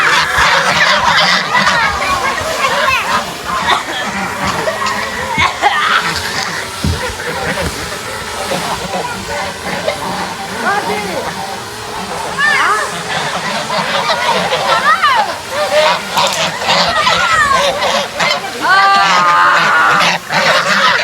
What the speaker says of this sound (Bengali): এই যে হাঁস, হাঁসের মাথার উপরে ডোন। হাঁস খুব ভয় পাচ্ছে